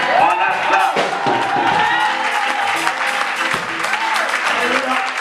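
A church congregation applauds and cheers in a lively burst of clapping, whoops and raised voices, loud and close, with singing and shouting mixed into the crowd noise.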